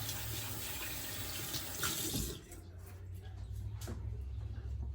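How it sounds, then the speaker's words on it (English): Water runs from a sink tap while hands are washed, a steady close splashing hiss that dips briefly midway as the flow shifts, with a low hum underneath. "All right, messy hands, so gotta wash myself up."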